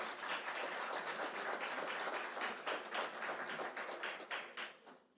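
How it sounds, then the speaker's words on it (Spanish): Audience applause at a national seminar panel in Colombia, welcoming a lieutenant to the stage: dense, steady clapping from a crowd that thins and fades out over the last second. "lo recibamos con un aplauso"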